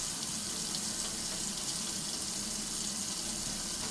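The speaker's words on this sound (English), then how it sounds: "I take my top, run some water on that" Tap water runs steadily into a sink over a trumpet valve top cap being rinsed of toothpaste residue, a constant close hiss and splash with no breaks.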